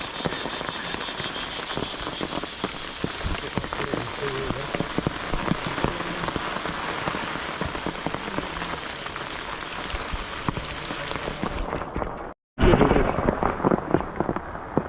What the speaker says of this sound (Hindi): बारिश बहुत हो रही है भाई